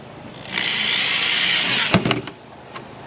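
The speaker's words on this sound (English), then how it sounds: "I'm just going to use this existing drill, being that these are in place, to just score each one" An electric drill whines steadily for over a second as it scores rubber fender filler strips on a rear fender, followed by a few sharp clunks and knocks as it stops.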